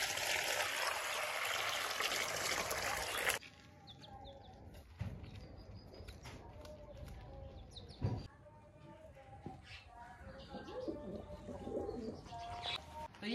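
Pigeons coo softly in low, rolling calls amid flapping and rustling, after a loud rushing noise at the start; some voices murmur faintly.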